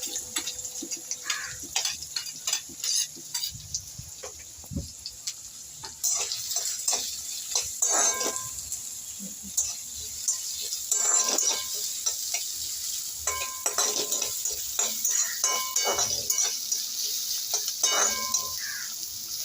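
Chopped onion and green chilli frying in a pan for a greens curry, a soft continuous sizzle with frequent clicking spatula stirs and scrapes, close and fairly quiet throughout.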